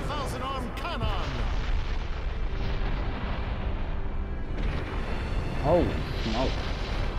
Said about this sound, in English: Wood style! Shinsu Senshu veritable thousand arm cannon!